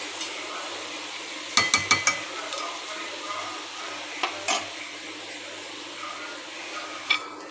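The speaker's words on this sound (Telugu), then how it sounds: "సో కొంచెం ఫ్రై అవ్వనిద్దాం." Ponaganti greens fry steadily in a pan, a soft continuous sizzle punctuated by a few clanks of a spoon stirring against the metal.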